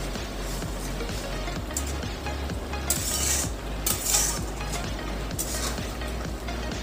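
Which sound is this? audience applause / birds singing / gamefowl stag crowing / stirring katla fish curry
stirring katla fish curry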